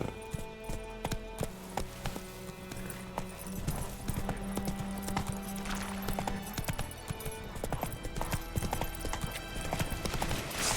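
Roach the horse gallops in The Witcher 3, hooves clip-clopping in a steady rapid rhythm beneath game music and ambient effects, with a brief whinny possible amid the busy mix.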